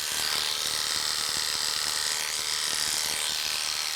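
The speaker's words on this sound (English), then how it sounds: "you may run your clipper blade right down over the top of the foot" Electric clippers buzzing close up as they trim a dog's foot, a steady high whirr with faint rhythmic clicking from the blade.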